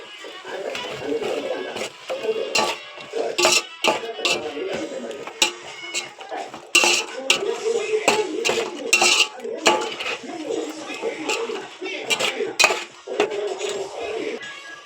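A utensil scrapes and clinks against a cooking pot while salt, chili powder and garam masala are stirred in, giving irregular metallic knocks and scraping strokes throughout.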